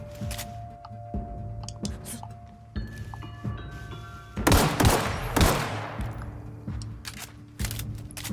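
Gunfire in the first-person video game The Outer Worlds: bursts of shots and sharp reports over a humming game soundtrack, with one louder, denser volley in the middle of the stretch.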